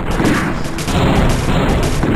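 Tanks firing in a Warzone tower defense game, a loud dense burst of overlapping booms and rapid gunfire that continues with a brief dip partway through.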